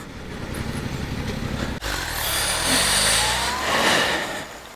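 A 2024 Yamaha MT-07 twin-cylinder motorcycle engine runs with a steady rumble, then revs harder and holds a rising, buzzy drone under wind noise, close and fairly loud.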